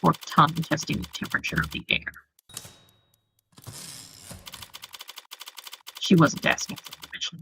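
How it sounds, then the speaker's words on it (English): Video game typewriter keys clack in quick rhythmic bursts, sharp and close, interleaved with a narrator speaking, with a short stretch of quieter rustling in between. "it's the sound of a typewriter."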